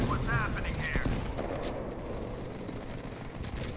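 Gunfire in the mobile shooter Modern Combat 5, a steady dense wash of shots and battle noise at moderate level, with a speaking voice over it.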